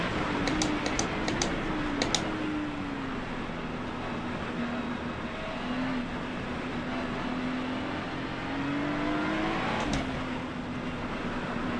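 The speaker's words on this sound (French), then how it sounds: "Et vous n'aurez plus peur hein, de rouler sur cette pluie, sur iRacing." A race car in the iRacing sim driving at Spa in the rain, its engine holding a steady droning pitch with brief shifts and rises, accompanied by a few sharp clicks early and near the end, alone without speech.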